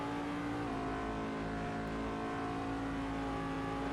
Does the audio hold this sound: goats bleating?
no